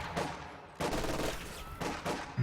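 Loud bursts of MG42 machine gun fire in a Company of Heroes 2 battle, several short, close volleys separated by brief gaps.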